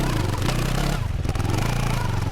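A CFMoto 650 ADVentura motorcycle, a 2022 adventure bike on high-performance sport tires without knobbies, riding off-road: a steady close engine drone with rattling clatter and a brief dip in the middle.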